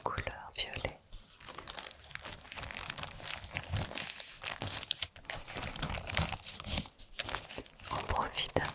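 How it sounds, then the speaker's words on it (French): Violet tissue paper is unwrapped close up in an ASMR unboxing, giving continuous soft crinkling and rustling in uneven bursts, with quiet whispering mixed in. "C'est emballé dans un très joli petit papier de soie de couleur violet."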